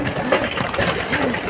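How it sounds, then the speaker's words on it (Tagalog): Racing pigeons during a training flight and pooling fundraiser, heard as soft continuous cooing and bird calls over a steady noisy outdoor background. "So ganoon natin sinasanay mga ibon natin mga kalapatids."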